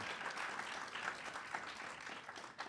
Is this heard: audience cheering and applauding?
yes